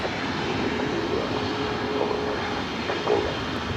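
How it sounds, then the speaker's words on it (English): A Boeing 747, an Atlas Air 747-400 freighter, takes off on the south side of Los Angeles International Airport, its engines a steady, moderately loud roar with faint rising tonal whines, alone without talk. "We do have a Queen taking off on the south side"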